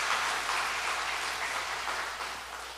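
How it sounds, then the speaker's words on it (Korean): Church congregation applauding during a Sunday worship service, a steady, even wash of clapping held at moderate level and easing slightly toward the end. "이게 박수 한번 칩시다."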